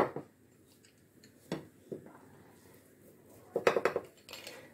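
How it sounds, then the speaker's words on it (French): A knife cutting a slice from a hot tuna quiche, with a few sharp clinks and scrapes of metal against the dish, sparse at first, then a quick cluster of taps near the end. "je vais venir découper une part"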